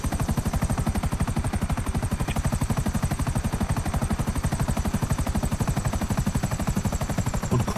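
A helicopter in the video game GTA, its rotor beating in a fast, steady, loud chop that runs unbroken throughout, with no voices over it.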